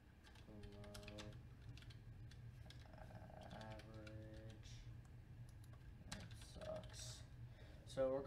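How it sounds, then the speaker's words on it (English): Computer keyboard typing in quick irregular clicks, close and quiet, running throughout beneath a man's speech. "I'm typing backwards here."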